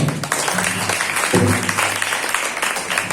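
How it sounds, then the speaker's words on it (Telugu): A church congregation breaks into a short burst of clapping, loud and dense for a few seconds. "కొట్టాలి చప్పట్లో"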